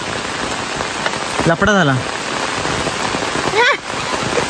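Steady rain pours down in a forest as a loud, unbroken hiss of drops on leaves and ground, while someone speaks briefly over it.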